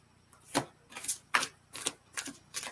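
A deck of cards is shuffled in six quick rhythmic riffle bursts, close and moderately loud with no talking.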